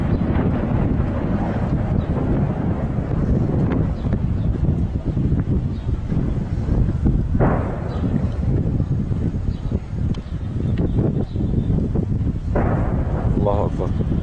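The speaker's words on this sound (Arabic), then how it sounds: "مدينة الرسن تقصف." Artillery shelling strikes the city of Rastan in Homs, Syria, heard as scattered dull blasts and rumbling booms within constant gusting wind noise, with no clear speech.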